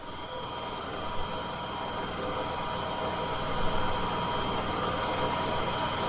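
A Champion 3400 portable generator (model 100261) idles with a steady, continuous engine drone and mechanical hum, constant in level throughout with no talking.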